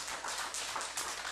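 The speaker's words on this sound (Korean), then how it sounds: "서연이 제일 잘해서 박수." A church congregation at a Friday worship service claps for a girl named Seoyeon, a steady, dense wash of hands filling the room for the whole stretch, bursting a little louder in a few waves.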